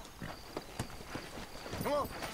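Horse hooves clip-clop in a steady walking rhythm in the video game Red Dead Redemption, moderately close, while someone speaks over the clopping.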